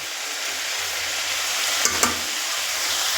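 Close, steady sizzling of cabbage frying in an iron wok without water, with two quick metallic scrapes of a spatula near the middle.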